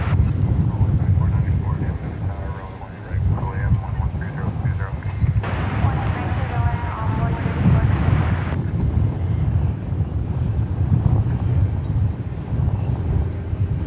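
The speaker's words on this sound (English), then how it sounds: "Here's the flight from Querétaro, an Airbus A319." An Airbus A319 airliner from Querétaro flies past near DFW Airport, a low engine rumble mixed with gusty wind buffeting the microphone, and a voice talking partway through.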